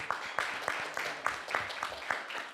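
An audience in a lecture hall applauding as everyone stands to welcome a distinguished nanoscience professor; rhythmic clapping carries steadily throughout at moderate volume, with sharper accented claps recurring.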